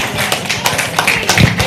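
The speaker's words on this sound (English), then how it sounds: "Let's clap for him." An audience at a marriage seminar applauds a speaker with loud, dense, steady clapping that fills the whole moment without pause.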